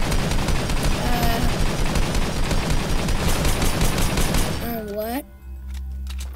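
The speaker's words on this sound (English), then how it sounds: "Let's try shooting it." Rapid, continuous gunfire from shooting in the video game Fortnite fills most of the clip as a dense, loud barrage. It cuts off near the end, where a voice briefly speaks.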